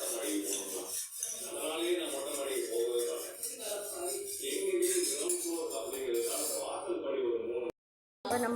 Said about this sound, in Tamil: அப்புறம் வந்து ஒரு தடவை கலக்கி விட்டுருங்க